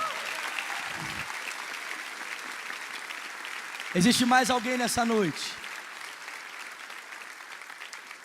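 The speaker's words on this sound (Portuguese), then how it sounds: "Vamos aplaudir forte" A church congregation applauds loudly during a worship service, with sustained clapping throughout and a preacher's voice speaking briefly over it midway.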